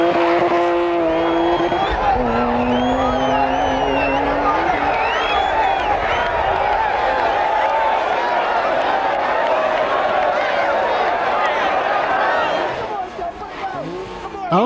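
BMW rally car thrown sideways on a Barbados rally stage, engine howling and tyres squealing continuously through a long skid, with a commentator talking over the loud, close action.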